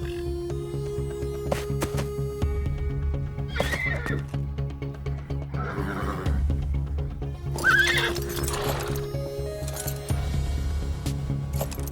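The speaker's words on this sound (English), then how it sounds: "in Gate 6, we have obviously a pantomime horse" Cartoon horse neighing and whinnying loudly several times, with clip-clopping hooves in between and a steady music or ambience bed underneath, in an adult animated comedy scene set at a horse race.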